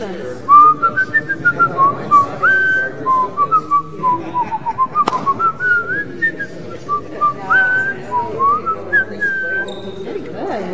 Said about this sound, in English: Yeah, I can whistle through that song.